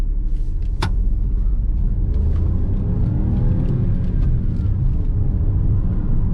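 Engine of a 2021 Hyundai i20 pulling away in first gear with the AC on, heard from inside as a steady low rumble that builds gradually, with one brief sharp click early on.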